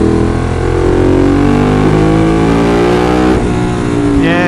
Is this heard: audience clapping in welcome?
no